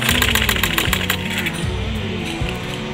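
A sewing machine runs steadily, stitching a designer sleeve for a suit, kurti or blouse, with a close, loud mechanical whir and rapid rhythmic needle ticks throughout.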